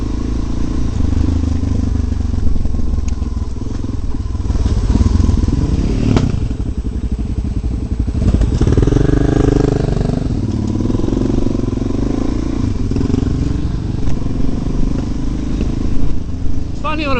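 Motorbike ridden along a steep, technical mountain road, the engine droning and revving close by with intermittent thumps and clatter from the rough surface, under someone talking.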